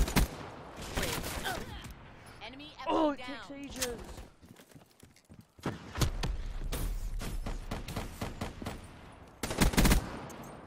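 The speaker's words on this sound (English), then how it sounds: "I can hear gunshots from miles away." Rapid bursts of automatic gunfire and single shots in a Black Ops 3 Gun Game match, some near and loud, others distant and faint, with players talking in between.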